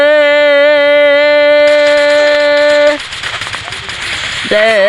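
Sustained automatic gunfire from the Free Fire battle-royale mobile game rattles in a dense, steady stream over the second half, following a bright tonal in-game sound at the start.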